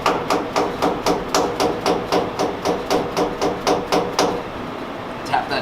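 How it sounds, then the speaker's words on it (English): Dead blow hammer tapping a workpiece down onto parallels in a Haas mini mill vise: a steady run of about a dozen evenly spaced, sharp knocks close by, a last lighter tap after a short pause. "Got my dead blow hammer."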